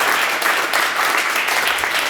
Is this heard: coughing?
no